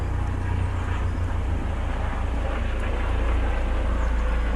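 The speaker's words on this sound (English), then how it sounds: "That bloody helicopter coming our." A helicopter flies overhead near an airport, a steady loud low rotor and engine drone that fills the whole stretch, continuous and close, with no talking.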